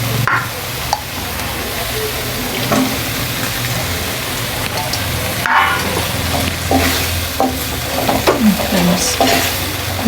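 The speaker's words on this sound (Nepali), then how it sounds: "मजाले रातो भइसक्यो। अब यसमा गोलभरा हाल्छु।" Chopped tomatoes hit a pan of reddened spiced masala for a taro leaf curry, setting off a steady sizzle and fry with scraping stirs throughout, loud and near with no talking.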